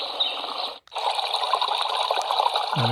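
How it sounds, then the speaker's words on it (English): A noise machine plays a bubbling creek track: a dense, close, steady watery rush with a faint rattling texture, briefly cutting out once before resuming, with no voices. "There's your bubbling creek."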